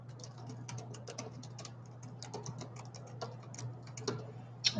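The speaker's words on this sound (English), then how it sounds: "Let me type that in there." Typing on a keyboard, a run of quick, light key clicks at close range over a low steady hum, with a faint murmur of voice in the background.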